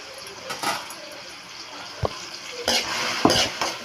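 Onion and tomato stir-fried in hot oil for drumstick leaf sambar, with a steady soft sizzle and a few sharp scrapes and clinks of a spoon against the pan, close and with no talking.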